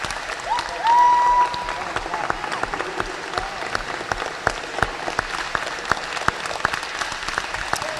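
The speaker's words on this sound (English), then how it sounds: "Give them a big round of applause." Audience applause for a wrestling club and its coaches fills a hall with steady, dense clapping from start to finish, with a brief whistle or cheer early on.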